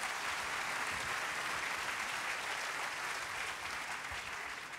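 A hall audience applauding at a corporate day event, dense sustained clapping that fills the whole span at an even level without any break.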